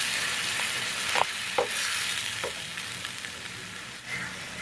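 Blended tomato hits a frying mushroom masala in a pan: a close, steady sizzle broken by several brief scraping stirs of a spoon, with no talking.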